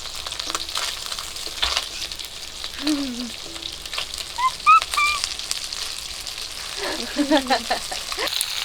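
Live singhi fish fry in a pan of oil with a steady, close sizzle and occasional stirring scrapes, while birds chirp faintly in the background.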